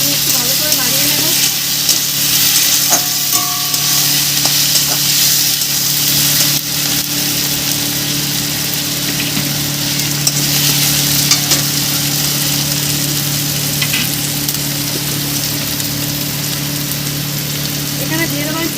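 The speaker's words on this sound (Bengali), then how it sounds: "কুচানো টমেটো দিয়ে দিলাম, একটু ভালো করে নাড়িয়ে নেব" Chopped tomatoes sizzle as they are stirred into frying onions in a pan, a steady close hiss with scraping and clinks and a low hum underneath.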